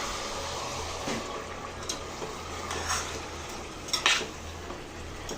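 Mutton frying with spices in a pan, with a steady low sizzle under occasional scraping and stirring clinks of a utensil against the pan.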